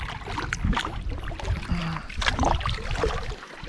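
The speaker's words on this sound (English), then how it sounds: "we just inflated one boat to paddle a little bit" Paddle strokes splash and swish against river water beside a small, heavily loaded inflatable packraft, with wind rustle and a brief murmur of movement, no speech.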